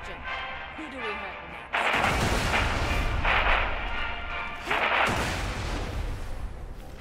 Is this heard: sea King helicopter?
no